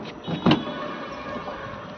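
A power window motor runs briefly in a second-hand 2.5 Toyota Innova G, a short whirring hum with a soft thump near the start, quiet and close with no speech.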